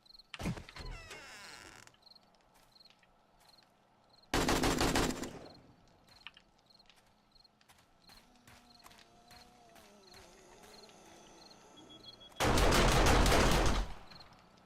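An automated turret in the 7 Days to Die video game fires three loud, harsh bursts of rapid gunfire, each lasting one to two seconds and separated by quieter stretches with faint ticks and small mechanical sounds.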